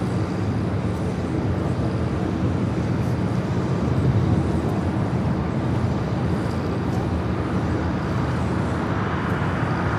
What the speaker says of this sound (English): That United Dreamliner now taxiing to the runway